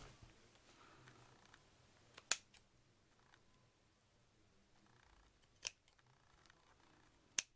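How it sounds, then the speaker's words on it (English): Scissors make a few sharp, isolated snips spaced seconds apart against a very quiet background, each cut short and crisp and close. "I'm going to cut some of these."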